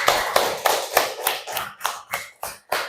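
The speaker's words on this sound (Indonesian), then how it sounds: "mari kita beri tepuk tangan untuk semuanya" A primary school class clapping together in a rhythmic, unison pattern, about ten sharp, loud claps in a steady beat with no talking.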